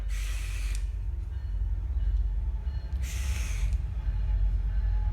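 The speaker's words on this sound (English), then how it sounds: "the trains don't come through and then, there we go, train" Train passing nearby, a continuous low rumble with two brief hissing bursts, loud and close, with no talk over it.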